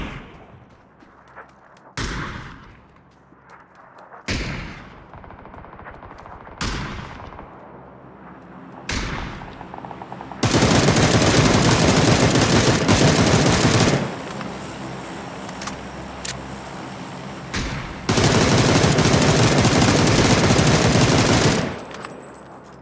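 Automatic gunfire in PUBG: a few separate shots and short bursts, then two long, loud, sustained streams of rapid fire with a brief gap between them, and no voices.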